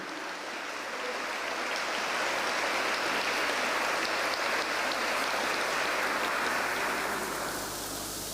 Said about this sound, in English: can we have a round of applause to show appreciation for their time and commitment?